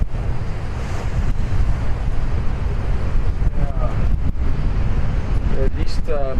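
Strong wind and breaking waves at sea aboard a sailboat beating across open water: a loud, steady roar of wind and surf with wind buffeting the microphone, and a few brief sharp knocks and creaks.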